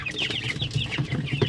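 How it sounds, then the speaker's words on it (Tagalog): One-week-old chicks peep steadily in a brooding pen, a dense chorus of high, overlapping chirps from several birds close by, repeating rapidly without pause. "So nandito yung aking mga sisiyo na"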